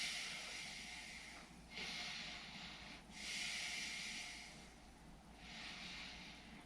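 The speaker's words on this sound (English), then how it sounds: "take 3 deep breaths" Deep breaths drawn in through the nose give three long, soft airy hisses, evenly spaced, with quiet pauses in between and no talk.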